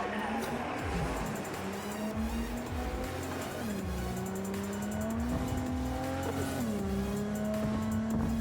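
A car in the video game Cyberpunk 2077 drives steadily, its engine drone rising and dipping through gear changes, with tire squeal and skidding as it slides around, loud and continuous throughout.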